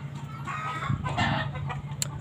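A hen clucks in short, murmuring bursts close by, with a brief sharp squawk near the end over a low background hum.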